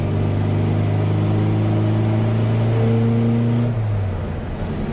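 A 1968 MGB Cabriolet with a five-speed synchronized manual gearbox, its engine humming steadily close up and rising in pitch as it pulls, then easing off toward the end.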